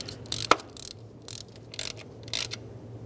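Short ratchet clicks come in several separate bursts as the valve cover bolts on a 2002-2006 Toyota Camry are brought snug, with a sharper metallic clink near the start, heard close with no talk.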